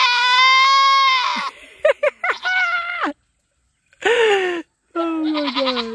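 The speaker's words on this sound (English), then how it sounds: "He is a beautiful goat, though." A goat on a homestead gives a long, loud, quavering bleat up close, followed by choppy, broken cries, a brief silence, then two more strained bleats.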